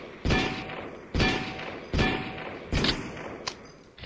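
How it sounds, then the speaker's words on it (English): Targets dropping in a VR shooting game demo, four heavy thuds landing about a second apart, each followed by a short rattling tail, with a fainter knock near the end. "Let the targets drop and move."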